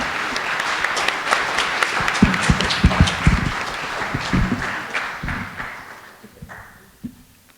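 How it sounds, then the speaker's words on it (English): A State of the City audience applauds the mayor, Whitney and Kai, with dense clapping that builds, then thins and fades out, a few last claps trailing near the end. "Let's give the mayor and Whitney and Kai another round of applause."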